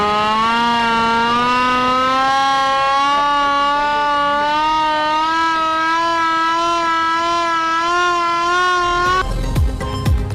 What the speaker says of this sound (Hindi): अलर्ट जारी, सायरन बज गए।